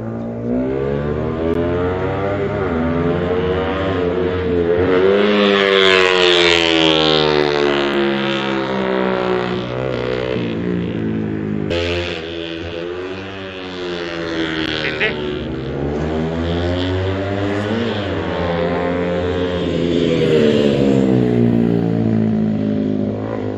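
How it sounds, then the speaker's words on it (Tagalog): Loud, sustained engine roar with rising and falling revs, several motorcycle engines running close by throughout, with a brief dip midway. "Ramdam nyo ba yung lakas ng makina nila?"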